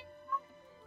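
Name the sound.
cat meowing in a video game (Genshin Impact)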